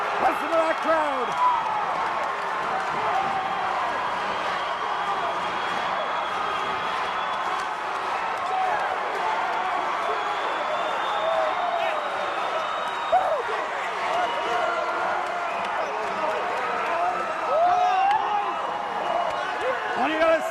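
Fans at a high school basketball championship keep up loud, continuous cheering and applause after the Crusaders' win, a thick roar of yells and clapping with occasional sharper whoops rising out of the crowd.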